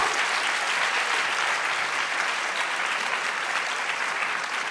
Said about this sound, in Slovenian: En aplavz, hvala, hvala, hvala.